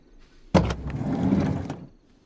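A door is opened in the horror video game Those Who Remain. It makes a single loud, close scraping creak that lasts about a second and a half, set against near silence.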